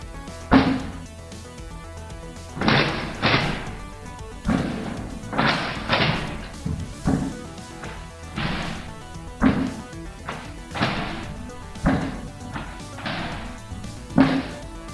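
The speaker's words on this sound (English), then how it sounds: "I'm just gonna fire off our 5 shots" Five shots fired one after another from a Nerf Rival Heracles XIX-500 blaster, heard as hard thumping bursts at a steady pace, each followed by smaller knocks and clatters from the mechanism, close and without talking.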